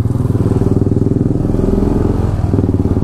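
A motorcycle engine idles loudly and close by with a fast, steady putter of even pulses throughout.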